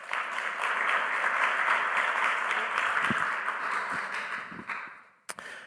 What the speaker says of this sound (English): Should we give Sarah a little round of applause as she comes up?